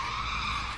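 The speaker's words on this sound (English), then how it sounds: "a car stops abruptly, turns around and eventually stops right next to the sidewalk" A car brakes hard and skids, a sustained tonal tire squeal lasting under a second, loud and steady before tapering slightly at the end, with no voices.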